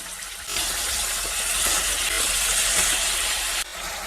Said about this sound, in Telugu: మన వెజిటబుల్స్ని అదే ఆయిల్లో ఫ్రై చేసేసుకొని తీసి పక్కన పెట్టేసుకుందాం బంగాళదుంప కూడా వేసేసుకొని వేసుకుందాం